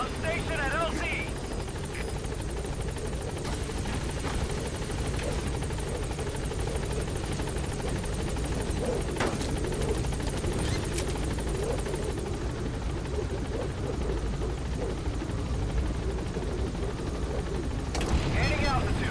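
The Pequod helicopter from Metal Gear Solid V flies nearby, a continuous loud rotor chop and engine drone that persists throughout, with radio speech and scattered gunfire-like bursts in the mix.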